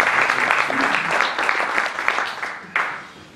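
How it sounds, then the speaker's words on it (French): Audience applause for a speaker being welcomed onstage at a Bangkok Business Angels session, a steady dense clapping that swells early and tapers off toward the end. "Vous l'applaudissez?"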